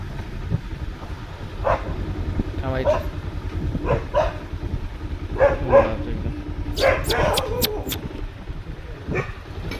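A dog barks in a series of sharp yips and bow-wows mixed with whimpers, moderately close, with people talking over much of it and a car faintly in the background.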